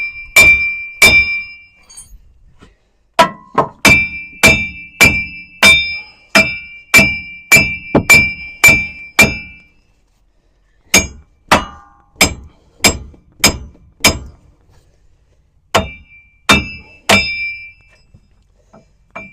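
A hammer strikes the front hub of a Ram 2500 truck during hub and bearing removal, loud, close, ringing metallic blows in quick steady runs with short pauses between bursts.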